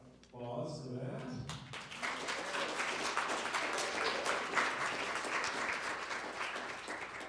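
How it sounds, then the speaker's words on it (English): Audience applause follows a short spoken thanks during a live-streamed dance talk, steady clapping from a crowd rising quickly and continuing evenly throughout, with a voice briefly heard at the start. "Applause for that."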